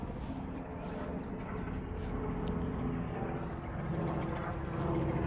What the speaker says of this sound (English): Getting more fucking helicopters, eh?